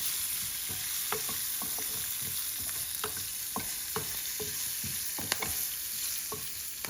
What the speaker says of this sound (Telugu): కరివేపాకు, పచ్చిమిర్చి ఆ, అన్నీ వేసి వేయించి ఇందులో కాడలు కూడా వేసి వేయించేస్తా